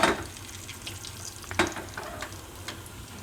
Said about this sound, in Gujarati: આ તેલમાં આપણે જીરું નાખીશું થોડુંક લાલ થવા દે